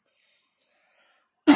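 A single short, loud cough bursts out at the very end, right after near silence, during a live religious talk stream.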